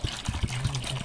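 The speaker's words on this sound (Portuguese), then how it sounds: "Vou colocar a água primeiramente. Ó, colocar a água aqui." Water poured by hand into an old basin, heard as a short, close trickling splash with uneven gurgles, about a second long, with no talk over it.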